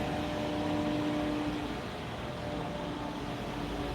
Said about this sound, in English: Damn Mercedes sounding weird.